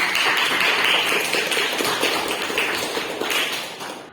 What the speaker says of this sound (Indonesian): beri tepuk tangan dulu untuk Mimpi